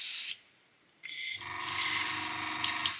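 A Gaahleri Mobius TG 0.5 airbrush sprays in a short hiss, falls quiet, then hisses again and shifts to a fuller, bubbling gurgle with a finger held over the nozzle end.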